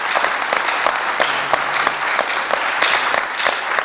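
Sustained loud applause from an audience honoring young trainees at a solar installation training ceremony in Dolisie, with dense clapping and a few sharper individual claps standing out.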